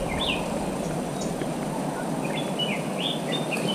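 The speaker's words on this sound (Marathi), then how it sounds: "पक्ष्यांचा आवाज आजूबाजूला छान प्रसन्न वाटतं एकदम" Birds sing and chirp in a Konkan forest thicket, several bright calls and short tweets scattered over a steady hiss of ambient background, moderately distant, with no talking.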